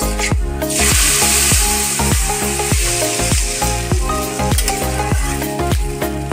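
Hot water hits lentils (dal) frying in a pan, setting off a loud, continuous sizzle. A spoon scrapes the pan in a steady, regular rhythm of stirring strokes underneath.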